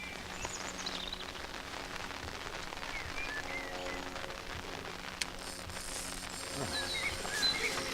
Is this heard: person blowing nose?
no